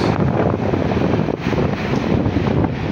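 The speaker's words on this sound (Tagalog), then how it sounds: "ang lakas ng alon, grabe" Strong sea waves at a Philippine island, heard as a loud, unbroken roar of surf heavily mixed with wind buffeting the microphone, steady throughout with no voices.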